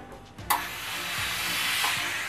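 An ironing table's vacuum suction pulls steam out from under a wool women's jacket, starting with a sharp click and then holding as a steady, close, broad hiss for about two seconds with no one talking.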